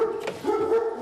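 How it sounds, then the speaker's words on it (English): A dog barks near a road by a farm, a short run of yapping barks with some whimpery tone, fairly close and moderately loud over light background noise. "Bloody dog."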